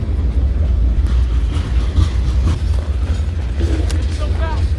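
A moving train rumbles steadily and loudly up close, with a constant low roar and faint clanking and squealing over it.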